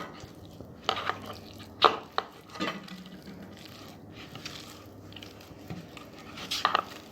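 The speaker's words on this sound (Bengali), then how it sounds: "রাঙালু সেদ্ধটা ম্যাশ করে নিয়েছি" Boiled sweet potatoes are mashed in a pot, giving soft irregular thuds and scraping knocks of the utensil against the vessel, fairly quiet, with no talk.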